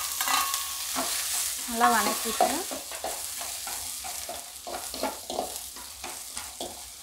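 Sliced onions fry in hot oil for dosa kurma, sizzling steadily while a spoon stirs and scrapes the pan in repeated strokes. A voice speaks briefly over the cooking.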